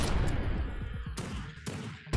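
Gunfire from a weapon in the retro shooter game Project Warlock, a rapid burst of loud, punchy shots followed by two sharper blasts, layered over busy game effects.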